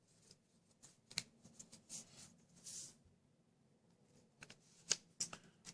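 Paper being creased and folded into an origami Saurolophus, soft scattered rustles and crisp crinkles close by, in short irregular bursts with quiet gaps.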